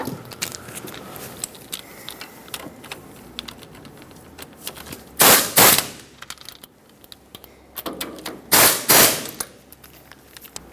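Wrench seating the bolts on the front wheel hub of a 1995-2004 Toyota Tacoma 2WD during a wheel-seal job, heard as scattered metallic clicks and two loud, short bursts of rapid ratcheting close by.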